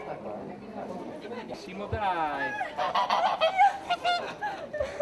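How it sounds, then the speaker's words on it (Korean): Geese honk repeatedly in a noisy, overlapping chorus while waddling through a street at a medieval festival in San Marino, close by, growing busier after a quieter start, with occasional soft thumps underneath. "열심히 뒤뚱뒤뚱 아저씨를 뒤따르는 거위들"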